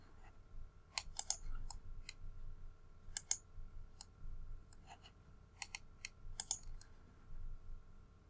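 Keystrokes on a computer keyboard tapped in short irregular bursts of soft clicks, close and quiet over a low steady hum, with no talking.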